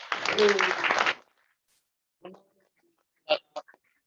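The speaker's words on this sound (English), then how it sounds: "Let's give her another round of applause." A short burst of audience clapping at a branding and video marketing workshop lasts about a second before cutting off, followed by near silence and a few scattered faint sounds.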